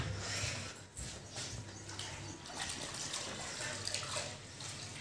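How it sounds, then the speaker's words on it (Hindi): Water sloshes and splashes steadily during floor mopping indoors, a close wet swishing with brief pauses, fairly quiet overall and with no speech. "तो चलो पहले लगाती हूँ पोछा"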